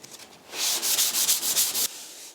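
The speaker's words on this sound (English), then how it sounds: "So I'm going to continue sanding this down" Hand sanding on a rusty old truck cab after epoxy paint, a run of quick rhythmic abrasive rasping strokes that starts softly, grows loud and close, then stops abruptly.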